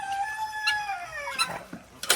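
A guinea fowl at a farm animal sanctuary gives a clear, drawn-out call that slides slowly downward in pitch, followed by a few short, harsher notes near the end.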